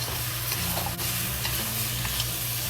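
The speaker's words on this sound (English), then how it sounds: "And fried until the pepper and onions and it's cooked." Pepper and onions frying in a pan for sweet and sour pork with pineapple, a loud steady close sizzle with a low hum and occasional light stirring scrapes, no voices.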